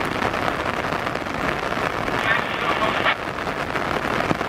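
Steady rain hisses across a wide railway station at Srowot, a dense, even patter that never lets up, with a faint tonal hum rising briefly partway through.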